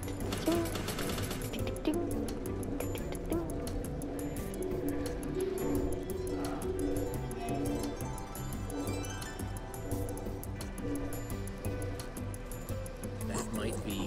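Background music from the Minecraft Story Mode video game, a dense, steady, continuous layer of sound playing alone at even loudness throughout.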